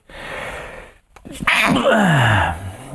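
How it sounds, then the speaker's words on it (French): A man's loud, close sneeze bursts out after a brief pause, followed by a trailing exhaled vocal sound; the sneeze stands alone without speech over it. "Je vous éternue d'en face."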